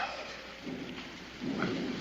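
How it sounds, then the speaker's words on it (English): Heavy rain pours steadily in a storm, with low thunder rumbling beneath it and swelling louder toward the end; no one speaks. "it wasn't raining like this when you first come in"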